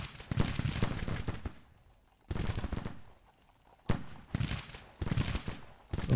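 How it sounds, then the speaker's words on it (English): Musket volleys and artillery fire from a Civil War battle in Grand Tactician, heard as rolling, crackling bursts of massed shots that swell and fade in several separate waves with quieter gaps between. "We got a regiment shooting it up"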